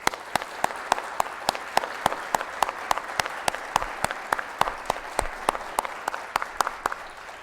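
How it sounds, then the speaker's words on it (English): Steady applause from an outdoor crowd gathered for the NASDAQ opening bell in Times Square, New York, with sharp individual claps standing out over a dense, sustained wash of hands. "So how about a round of applause to kick things off?"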